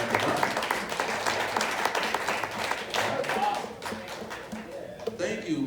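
Audience applause at a live question-and-answer session with a band of brothers, a dense, steady wash of clapping from a crowd that carries on throughout, with voices talking over it.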